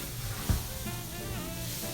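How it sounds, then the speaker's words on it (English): Chopped onions and celery brown in a pan for shrimp and grits, a close, even sizzle with a soft clink of stirring near the start. "I'm browning up the onions just a little bit and the celery"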